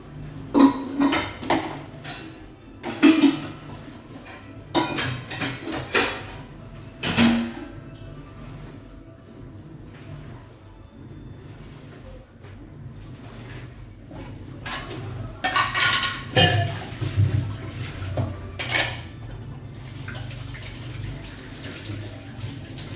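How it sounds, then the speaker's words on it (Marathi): Dishes, pots and pans being washed by hand at a home sink, with repeated clinks and clatters of utensils over running water, in irregular bursts with quieter stretches between. "आता भांडी घाटायची बाकी भांडी घासायची"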